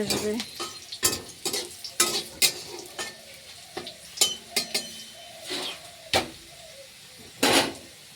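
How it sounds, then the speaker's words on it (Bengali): Onion and dried red chillies hit hot oil in a pan as a tempering for lentil dal, giving a loud, steady sizzle broken by repeated sharp clinks and scrapes of a stirring spoon. "এখন আমি সোমবার দেবো তো সোমবারে দেখো পেঁয়াজ আর শুকনো লঙ্কা দিলাম"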